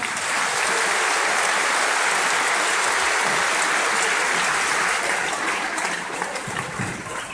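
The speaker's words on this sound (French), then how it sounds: "on les applaudit encore une fois" Castres Olympique rugby supporters applaud the players at the 2017-2018 season presentation: dense, sustained, loud clapping from a large crowd, steady throughout with no voices over it.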